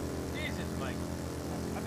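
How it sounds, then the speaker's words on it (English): A motorcycle engine in the video game Ride to Hell: Retribution drones steadily with a low, pulsing throb, held at a constant level under voices talking. "The motorcycle's really loud!"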